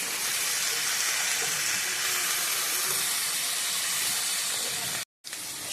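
Vegetables and fish head fry in a hot pan, giving a steady, dense sizzling hiss that runs unbroken until a sudden brief cut near the end, then resumes.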